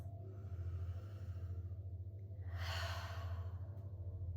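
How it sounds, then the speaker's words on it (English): A single deep exhale through the mouth during a gentle yoga breathing practice, a soft breathy rush swelling around the middle of the clip over a steady low hum, close and alone with no talk. "You might like an exhale through the mouth"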